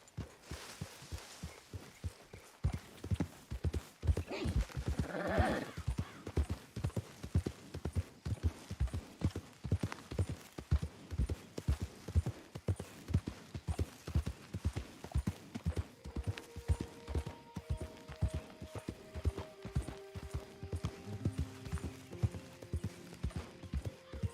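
Video-game horse hooves clip-clop at a steady walking rhythm while being ridden, close and continuous throughout, with soft tonal music notes creeping in toward the end.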